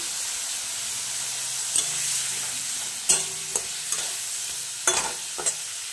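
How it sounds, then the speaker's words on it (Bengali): Vegetable stalks sizzle steadily in a hot pan with turmeric, salt and chili powder, while a spatula scrapes and stirs in several sharp, close bursts over the constant frying hiss. "ডাঁটাগুলো একটু ভেজে নেব।"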